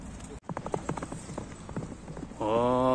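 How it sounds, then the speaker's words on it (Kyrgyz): A young colt gallops with quick, rhythmic hoofbeats clip-clopping close by, and a louder sustained tonal sound comes in over the last half second. "Бир кыска чабып көрсөк болобу экен"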